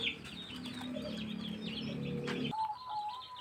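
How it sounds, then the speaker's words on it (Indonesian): Zebra doves (perkutut) coo softly in short rhythmic phrases, with no talk heard. A steady low hum runs under the cooing. "burung perkutut yang saya pegang ini yaitu burung perkutut udan Mas Mojo"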